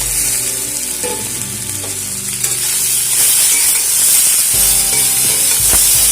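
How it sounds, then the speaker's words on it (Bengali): Flat beans, potatoes and tomatoes frying in a pan, giving a loud, steady, close sizzle and hiss with occasional stirring. "শিম আর আলুগুলোকে একটু হালকা করে ভেজে নেওয়ার পর এর মধ্যে আমি দিয়ে দেবো কেটে রাখা টমেটোগুলো"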